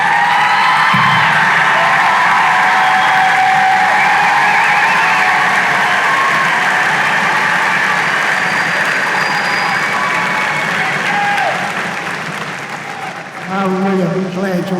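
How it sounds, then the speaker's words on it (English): Audience applauding at a college spring commencement, loud dense clapping with scattered whoops that holds steady for most of the clip before thinning out near the end. "I'm really glad you're applauding these kids like that."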